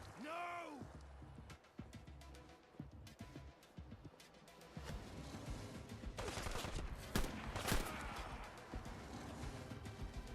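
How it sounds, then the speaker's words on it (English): Rifle gunfire rings out in Fallout London amid busy game noise, with sharp cracks scattered through the clip over a dense, loud background of action and effects. "This rifle is awesome when I have the ammo for it."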